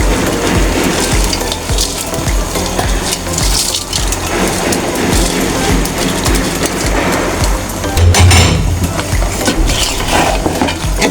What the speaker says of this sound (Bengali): এখন এটা ভালো করে আমি ভাজিয়ে নেব চাউলটা।